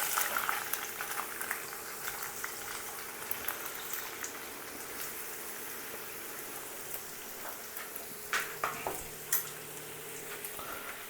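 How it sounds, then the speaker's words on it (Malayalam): Sliced onions fry in a hot kadai for chicken biryani, a steady soft sizzle and crackle with scattered louder pops, heard close and alone. "അതിലേക്ക് ഒരു കടായി ചൂടാക്കി അതിലേക്ക് നേരത്തെ വെച്ചിരുന്ന കട്ട് ചെയ്ത് വെച്ചിരിക്കുന്ന സവോള ചേർക്കാം."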